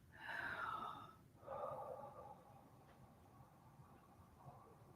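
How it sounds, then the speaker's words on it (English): A person breathes out long and slowly through the mouth in a quiet room, a soft airy rush that fades out. A second, gentler breath follows, then near silence. "And really long exhalation through the mouth."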